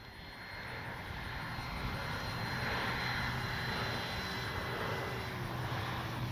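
A brand new electric motor drives a remote-control model airplane in flight, giving a steady, moderately distant engine drone that swells slightly and holds throughout without talk.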